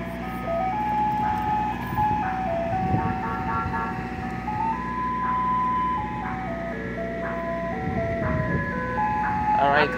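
A local ice cream truck plays its tinny, stepping melody on repeat, loud and continuous over an idling engine, with faint voices chatting in the background during an outdoor picnic.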